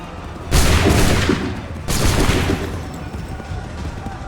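Two loud musket volleys crash out in the Assassin's Creed III Remastered video game, each a dense burst of many rifles firing together, followed by a ringing, fading roll of smoke and echo.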